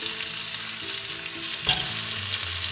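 Spiced eggplant fries in oil with no water added, giving a loud, constant sizzle broken by one sharp clack of stirring partway through, with low hum beneath.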